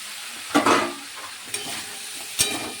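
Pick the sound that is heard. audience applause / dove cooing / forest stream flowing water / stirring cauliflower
stirring cauliflower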